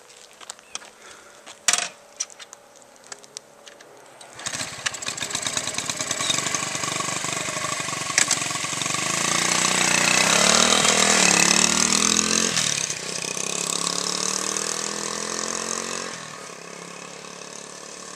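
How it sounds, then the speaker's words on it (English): A 1970 Honda CT70H motorcycle with a 4-speed manual, showing 1,300 miles, is kicked over a few times, then its small engine catches and runs loud and steady, revving up briefly before settling into a lower, even idle. "As you can see, the bike starts right up."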